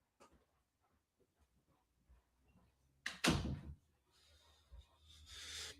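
A dog jumps into something indoors, giving a sudden close thump and rustling scramble after quiet scattered ticks and small movements, followed by a softer shuffling rustle.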